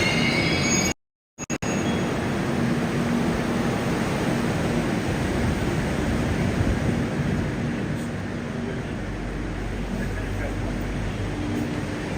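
A subway train arrives at a Moscow metro station with a loud, sustained rumble and a faint wheel squeal, the roar steady and close throughout after a brief cutout near the start; voices are heard faintly under it.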